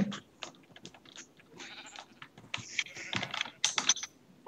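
Sheep in the Minecraft video game bleat a few times, moderately loud, mixed with quick rapid keyboard typing and clicking.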